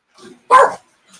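A dog barks indoors: one loud, sharp bark stands out between softer yips just before and after it.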